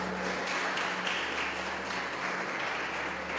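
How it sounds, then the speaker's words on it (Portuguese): A church congregation applauds during a conference worship service, a steady, fairly faint wash of clapping that lasts the whole moment. "Você pode dar um aplauso para o Senhor,"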